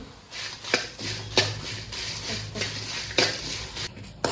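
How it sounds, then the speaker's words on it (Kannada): Twenty-five dried red chillies and masala frying in a pan for Kundapura-style crab sukka, a steady close sizzle broken by several sharp clinks and scrapes of a spoon stirring against the pan. "ಇಪ್ಪತ್ತೈದು ಒಣಮೆಣಸು ತಗೊಂಡಿದ್ದೇನೆ ಅದನ್ನು ಹಾಕ್ಕೊಳ್ತೇನೆ ಹಾಕ್ಕೊಂಡು ಚೆನ್ನಾಗಿ ಫ್ರೈ ಮಾಡಿ"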